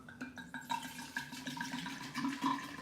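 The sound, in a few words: pouring sangria ingredients into a container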